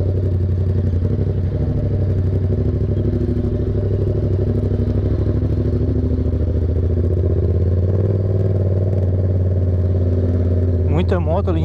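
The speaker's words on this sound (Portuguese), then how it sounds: "Muita moto ali em cima também." Motorcycle and car engines hum continuously at Morro dos Conventos on a sunny summer day, a steady, fairly close drone with light clatter and a short rising whine at the very end.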